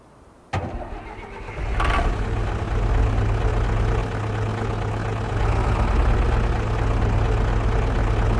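A tractor engine in the Farming Simulator 25 video game starts with a sharp click and a rising crank, then settles into a steady, loud, low idle rumble that runs on alone.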